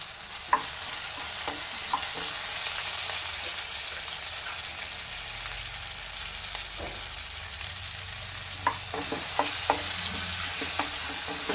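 Cumin and coriander seeds fry in hot oil for paneer masala, a continuous sizzle broken by repeated scraping stirs and small clinks, heaviest near the start and the end, with no voices.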